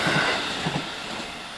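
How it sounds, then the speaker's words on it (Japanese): A Series 313 electric train runs along a rail line near Yoshiwara on the old Tokaido, a short rumble with a couple of faint wheel clicks as it passes close by. "313系電車です。"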